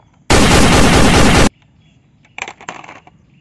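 A toy airsoft gun fires in a dense, loud continuous burst for about a second, followed after a pause by a cluster of quieter rattling, clicking impacts, close and without talking.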